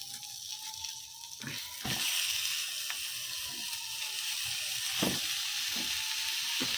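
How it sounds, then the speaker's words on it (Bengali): Ginger and cumin paste frying in a hot pan, a steady soft sizzle with watery hiss that swells slightly partway through, punctuated by a few brief clinks and scrapes, fairly quiet and close. "তবে একটু ভেজে নিই।"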